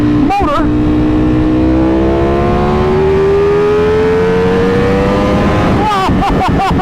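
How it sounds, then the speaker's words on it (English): Ducati Panigale V4 R or 1199R motorcycle engine revving high, loud and close, a single long rising pull with short throttle blips at the start and end. "That just revs seemingly to infinity and beyond."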